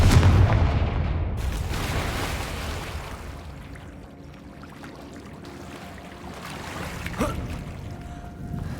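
Confringo fire-spell explosions in Hogwarts Legacy: a heavy booming blast at the start, then a long rumbling roar and a second, smaller burst near the end, with no talk over it.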